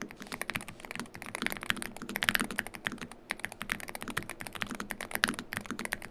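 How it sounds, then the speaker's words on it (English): Rapid, continuous clacking of a Meletrix Boog75 rapid trigger mechanical keyboard being typed on quickly, crisp and close, with no voices. "this is the best sounding rapid trigger keyboard"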